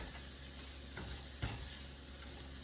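Chicken pot pie filling cooking down in a pan, a quiet steady sizzle with an occasional soft stir or tap.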